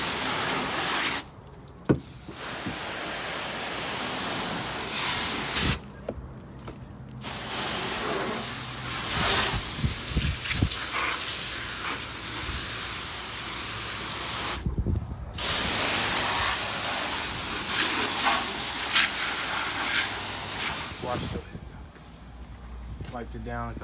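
Pressure-washer water spray hitting a 2006 Chevrolet Trailblazer SS: a loud, steady hissing spray with several brief pauses, close to the source, and a voice speaking briefly near the end.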